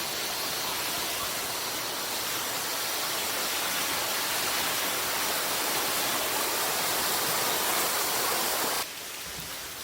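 Rushing flood water after heavy rain roars as a dense, steady wash, loud and unbroken before cutting off abruptly near the end.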